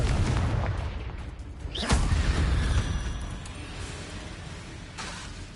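A Confringo fire spell explodes in Hogwarts Legacy, a sharp blast with a short rising whoosh near the two-second mark. Rumbling game sounds surround it, and a second, softer burst follows toward the end.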